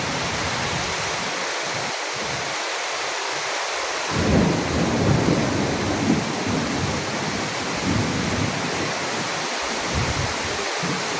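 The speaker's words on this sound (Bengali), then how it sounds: "সকাল থেকেই অবিরাম বৃষ্টি।" Heavy rain pours steadily over a village in a dense, loud hiss, with deep thunder rumbling in from about four seconds and rolling on beneath the downpour.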